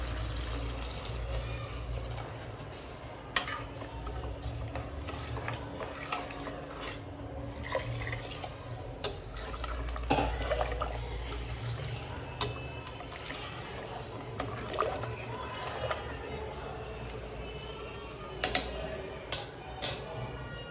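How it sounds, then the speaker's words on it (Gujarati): Water pouring and splashing into a pot of mixed vegetable khichdi nearby, a continuous liquid flow with occasional sharp clinks and drips, no talking. "હવે એમાં આપણે પાણી ઉમેરીશું"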